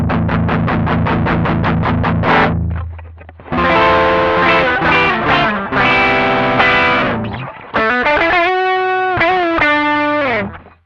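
Electric guitar through an Ibanez TS9 Tube Screamer overdrive pedal: rapid picked notes, then sustained crunchy chords and bent notes, loud and saturated, with no talking.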